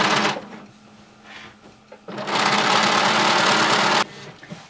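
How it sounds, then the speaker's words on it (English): A sewing machine stay stitches around the curved edge of fabric for a circle skirt, with short bursts of close motor whir separated by pauses, then one longer sustained run before it stops. "you're going to sew all the way around, making sure to keep the edge of your fabric aligned at the ½ inch mark"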